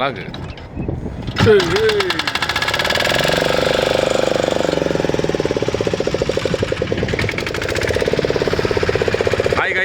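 Fishing boat engine at Ennore, Chennai, starting and running as the boat sets off, a loud rapid chugging knock that settles into a steady pulsing rhythm close by, with a voice heard briefly near the start.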